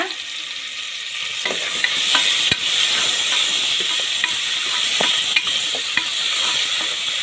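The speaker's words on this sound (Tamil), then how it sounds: "நல்லா வதங்கட்டும். இப்போ ஆனியன் வந்து நம்மளுக்கு நல்லா வதங்கிருச்சு." Onions sautéing in a pressure cooker for mushroom biryani, with a loud, continuous sizzle and frequent spoon clinks and scrapes as they are stirred.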